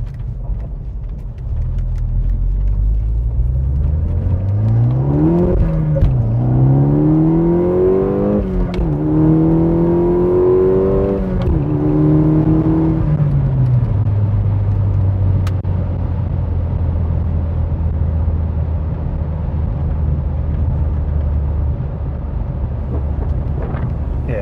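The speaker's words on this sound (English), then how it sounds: "A wee pull here to see if you can hear the noises of the diverter valve." A MK2 Seat Leon fitted with a GFB DV+ diverter valve accelerates hard on a road, engine note climbing through a couple of gear pulls before settling into a steady rumbling cruise, loud and close from inside the car.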